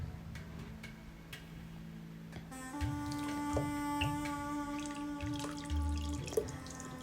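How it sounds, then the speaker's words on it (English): Fresh pumpkin juice pouring through a sieve while soap is being made, a steady close trickle with light drips over a faint tonal hum that grows a little fuller partway through. "I am pouring it through the sieve, so if there's some fibers still left from the pumpkin, so I would get them out"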